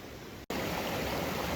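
A clear mountain stream in the San Juan Mountains rushes steadily with a dense broadband hiss, broken by one momentary dropout before resuming at full strength.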